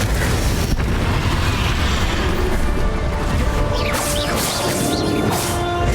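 A Bombarda blasting spell detonates in the Hogwarts Legacy video game, producing a loud, sustained booming roar with crackling, debris-like bursts rolling through the whole stretch.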